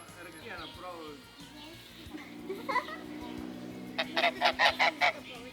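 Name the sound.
mother geese honking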